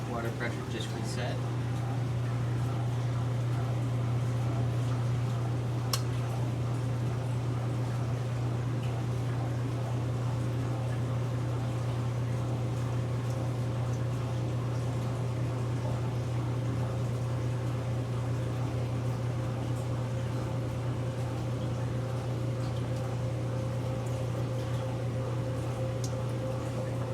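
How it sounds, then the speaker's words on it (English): Water draining rapidly out of an irrigation system being unwinterized, a steady loud hum with a constant low drone and rushing flow throughout, no pauses. "It has taken less than 2 minutes to drain all of that water out"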